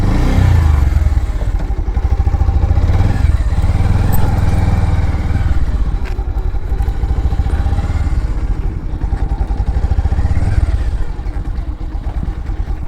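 A motorcycle on a road trip to Belpahari is ridden up to a parking spot at the foot of Gadrasini hill, its engine chugging loudly and close with a low rumble, revving briefly before easing and settling, with clatter and thumps.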